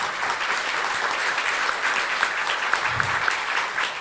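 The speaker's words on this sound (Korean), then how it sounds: "박수 한번 보내주시죠" Audience members at a policy forum on women's entrepreneurship applaud for a minister, producing a dense, even round of clapping throughout, close and steady, with no speech over it.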